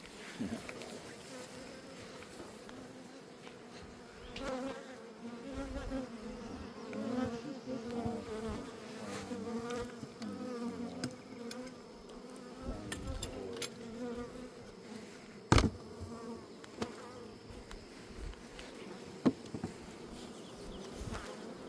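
Honey bees buzz steadily around beehives in summer, a dense droning hum that holds throughout, broken by a couple of sharp knocks.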